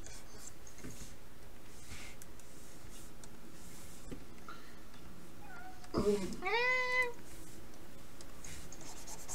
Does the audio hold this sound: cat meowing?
yes